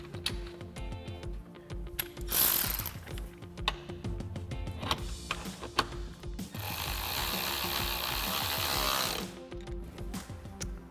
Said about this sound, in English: we're gonna take our T40 bit on an electric ratchet and tighten that down